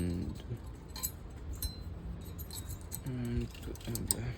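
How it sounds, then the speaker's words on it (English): Small metal brake pad rattle clips handled during a front brake pad replacement, giving scattered light clinks and jingles over a low background hum, with a person speaking intermittently. "Take your new rattle clips"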